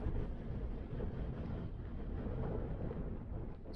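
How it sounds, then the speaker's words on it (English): Strong wind on a blustery day on the Azores coast of Flores, buffeting loudly and steadily against the microphone as a dense, rumbling roar with no voices. "The wind, it's a blustery day out here."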